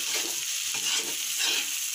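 Potato pieces for aloo bhaja are stirred with oil in a pan over high heat, giving close, rhythmic scraping sweeps over a constant soft sizzle.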